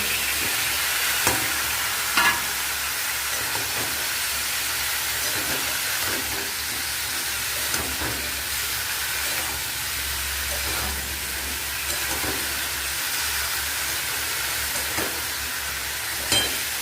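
Mixed vegetables frying in a hot pan for a vegetable curry, a steady broadband sizzle and hiss with occasional stirring scrapes, continuous and fairly close, no voices.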